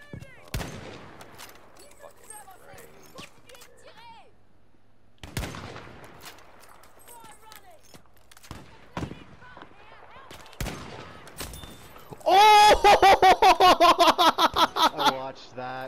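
Rifle shots ring out in Battlefield V, sparse single cracks with distant echoes, then a rapid, loud burst of repeated fire near the end, with players talking in between.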